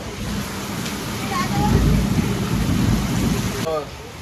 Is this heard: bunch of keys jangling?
no